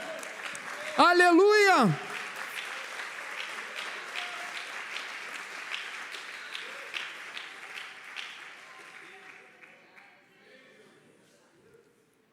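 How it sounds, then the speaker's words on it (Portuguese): A church congregation applauds during an evening service, a dense burst of clapping that fades gradually to silence, with a voice calling out loudly near the start. "dê um aplauso a Ele"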